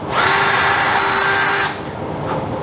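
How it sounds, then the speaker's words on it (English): A drill spinning at high RPM while boring holes in a scale-model PAK 43/41 Nashorn shield: a loud, steady, high-pitched whine held close for over a second, then cutting off and trailing away into quieter room noise. "So I use high RPM and just a little bit of pressure, otherwise the drill can snap."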